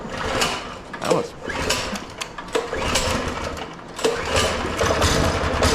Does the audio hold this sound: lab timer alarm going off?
no